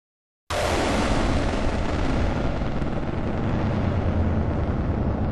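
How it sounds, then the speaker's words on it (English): A massive explosion destroys a bridge in a wargame scenario, a sudden loud blast that swells into a sustained, roaring rumble for several seconds with no talk. "Toby is rewarded as a massive explosion racked the bridge"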